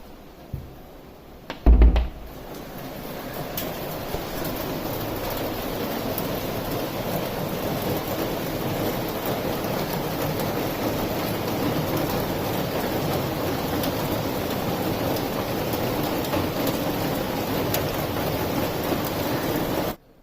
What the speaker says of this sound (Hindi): अभी देखो बाहर बारिश मस्त हो रही है एकदम